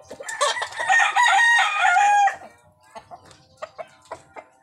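A fighting rooster gives one loud, close crow lasting about two seconds, followed by a quieter run of short clucks and scattered calls.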